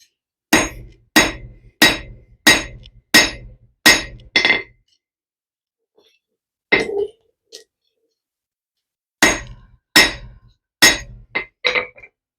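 A hammer strikes a piece of cast bronze in two bursts of sharp, ringing metallic blows, seven in an even rhythm, then a pause with a faint knock, then five more. The blows are close and loud with silence between them.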